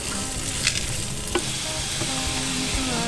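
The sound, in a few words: bacon frying in a pan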